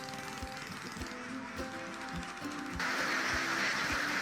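Ducks on a Vietnamese duck farm quack in short bursts at a moderate distance over steady outdoor background noise, with no one speaking.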